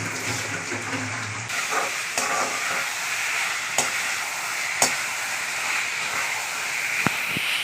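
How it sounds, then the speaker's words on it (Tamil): Half a kilo of chicken sautéing with ginger garlic paste in a pan, giving a steady, hissing sizzle, with a few sharp scrapes and clicks from stirring. "அந்த சிக்கனை போட்டு இதோடு நல்லா வதக்குங்க"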